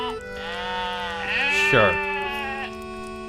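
A sheep bleats in the fantasy online game Lord of the Rings Online, a wavering, drawn-out bleat rising over steady game music with a voice speaking briefly.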